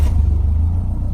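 A Caterham 310R sports car engine running at a steady idle just after starting, a loud, close, continuous low rumble with no talk over it.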